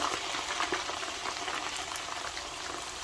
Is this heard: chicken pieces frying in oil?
yes